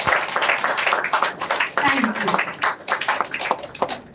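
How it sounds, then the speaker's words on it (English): An audience claps for children's performances at a children's literature festival theatre event, giving a moderate, uneven patter of applause with talking over it. "can we all give a big round of applause for the two lovely"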